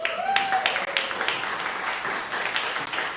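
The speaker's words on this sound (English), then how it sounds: "one more round of applause for Anna and Lindsay." Audience applause at a storytelling night in Bremerton, Washington, a steady wash of clapping that holds for about three seconds, with a voice speaking briefly over its start.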